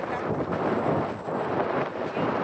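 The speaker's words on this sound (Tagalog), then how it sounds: "Hangin kaayo guys, oh." Strong wind buffets steadily in a loud, rough rush with gusty swells at the shore of Nanoose Bay, Nanaimo, BC, during a negative tide, with no voices present.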